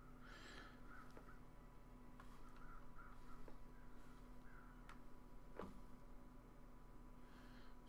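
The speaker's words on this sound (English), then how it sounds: "I'm going to try and follow the sound of the crows." Crows cawing in the video game The Long Dark, a few faint, scattered calls over a steady low wind-like hum, no talking.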